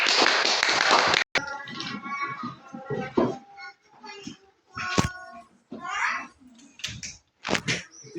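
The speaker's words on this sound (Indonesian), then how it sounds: "Kasih aplaus untuk kelompok Zaitun." Classroom applause for a student group comes as a brief burst of dense clapping at the start, cut off abruptly, then children's voices and scattered taps follow.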